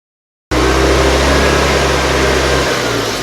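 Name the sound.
EZGO gas golf cart engine running after throttle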